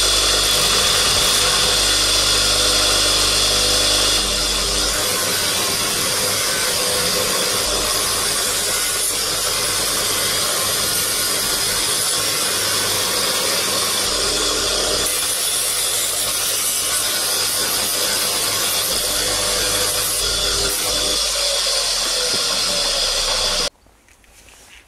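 A buffing machine spins a polishing mop against metal coated with compound, a loud continuous whining hum with rasping friction that shifts slightly in pitch before the motor cuts off near the end.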